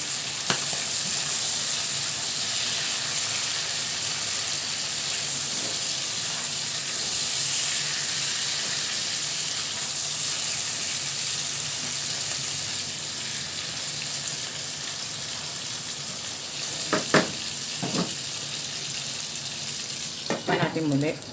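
White onion sizzles loudly in a hot pan while frying for Filipino chicken adobo, a steady, dense crackle throughout with a few sharp clinks of the utensil near the end.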